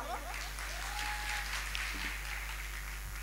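A live audience at a stand-up comedy show in Amreli gives a sustained round of applause, an even wash of clapping with a low electrical hum beneath it.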